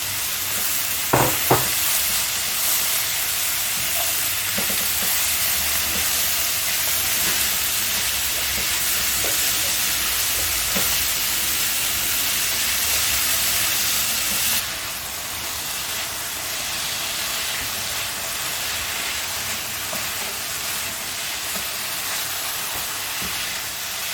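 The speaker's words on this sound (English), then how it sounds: "Now finish stir frying it" Vegetables with bell pepper, mixed herbs and salt stir-fried in a hot pan, a loud continuous sizzle and hiss with occasional spatula clinks, close up and unbroken; the sizzle dips slightly partway through and carries on.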